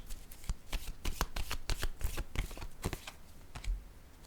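Tarot cards are shuffled, flicked and laid down on a table in a quick run of crisp, close slaps and rustles, fairly quiet with no talking.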